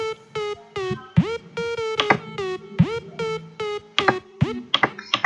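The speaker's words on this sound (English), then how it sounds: "It's like the trap lead that you hear, trap plucked lead that you hear in a lot of songs." A distorted, plucked trap synth lead plays a bouncy melodic pattern of short bright notes with pitch-bent attacks, loud and up front over a low backing.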